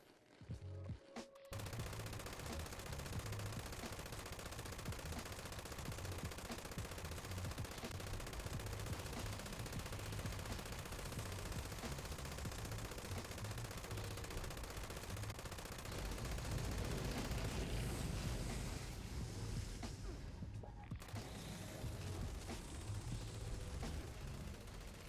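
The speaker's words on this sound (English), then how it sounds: "the rate of fire on this weapon is very fast" Quad LMG machine gun firing in the Fallout 76 video game, a long fast-paced burst of rapid gunfire sustained almost continuously with a brief pause near the start and another toward the end.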